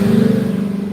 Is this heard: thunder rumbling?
no